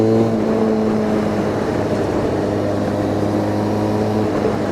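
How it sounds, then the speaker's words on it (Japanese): A Harley-Davidson X500 motorcycle exhaust drones steadily with even firing intervals, a dry, slightly raspy rumble with no speech. "先ほどと同じく少ししゃがれたようなドライな排気音が聞こえてきますが"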